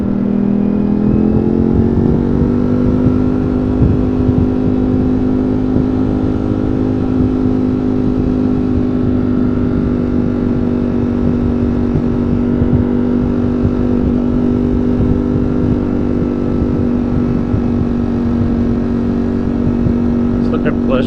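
A 2022 Ducati Streetfighter V4S motorcycle rides through New York City in sport mode, its engine note holding a loud, steady drone, dipping briefly then climbing as it slows and speeds up between gear changes, with wind rumble throughout.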